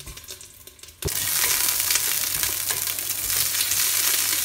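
Oxtail pieces hitting hot oil in a pressure cooker: after a quiet second, a loud, close sizzle erupts and continues steadily with no speech.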